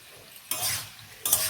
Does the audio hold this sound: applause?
no